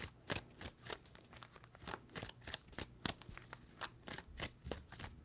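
Rapid bursts of tarot cards riffling and snapping together, several quick shuffles in a row with soft rustles between, close and fairly loud.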